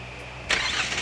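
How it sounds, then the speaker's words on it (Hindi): A Kia Carens engine, started by remote key, cranks and catches after a brief quiet hum, then settles into a steady idle close by. "रिमोटली आपका इंजन स्टार्ट हो गया।"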